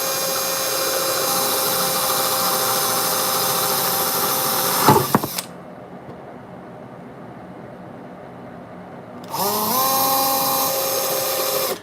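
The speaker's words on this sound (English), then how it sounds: "I pre-drill with this driver that has a 2mm bit on it, because it makes a nice guide hole for the big bit." A power driver with a 2mm bit drilling pilot holes in a case, a steady high whine that bites and stalls, drops to a lower spin, then revs up again, close and loud.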